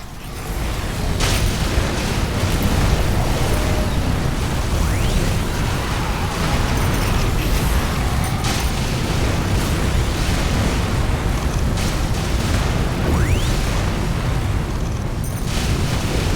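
A biofactory blowing up in Riftbreaker: a sustained, loud, rumbling explosion wash with crackling bursts and booming low end that keeps going for the whole stretch, with no talk over it.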